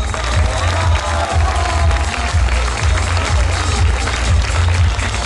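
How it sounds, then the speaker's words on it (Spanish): A concert crowd claps and cheers for a performer, a dense, loud wash of applause and shouting with a heavy low rumble of music or stomping underneath. "Para el aplauso"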